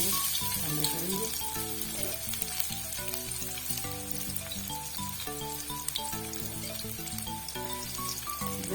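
Chopped onions frying in cooking oil in a wok give off a steady, close sizzle that runs without a break, with music playing in the background and no talking.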